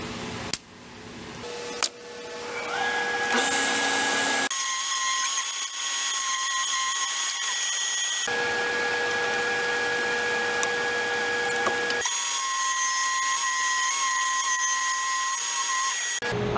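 A table saw blade cuts thick wood for round tabletops, its steady whine and hum running in long stretches with tonal changes between passes as the board is fed and repositioned.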